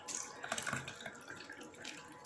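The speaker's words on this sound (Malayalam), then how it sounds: "നമ്മള് സർവത്ത് ഞാൻ ഒഴിക്കാൻ പോവാണ്" Homemade sarbath fruit drink with no added colouring is poured from a container, a steady liquid stream splashing for about two seconds at close range, fairly quiet, with no talk over it.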